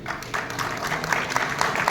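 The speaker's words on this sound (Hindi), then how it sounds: "तालियां खूब बजाएंगे" Audience at a public event applauding, a brief burst of dense, steady clapping with crowd murmur.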